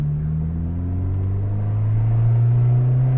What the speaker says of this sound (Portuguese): Vamos tentar abrir o VTEC desse carro.